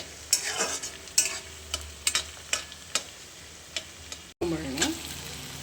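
Ginger and garlic sizzle steadily in a pan while a spoon stirs and scrapes, giving a series of close, rhythmic clicks and scrapes over the constant frying hiss.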